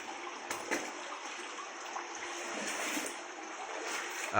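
Continuous gentle rush of water flowing through a quiet cave, with a few soft splashes and knocks, no voices.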